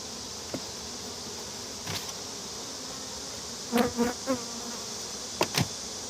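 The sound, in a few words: honey bees buzzing on a hive frame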